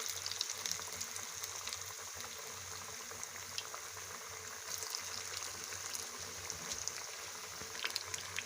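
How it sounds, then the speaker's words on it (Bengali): Cabbage and chicken pakoras fry in hot oil, giving a steady, soft bubbling and crackling that continues evenly throughout, fairly quiet and with no voices. "এবার এইভাবে উল্টে পাল্টে ভেজে নিতে হবে ভালোভাবে"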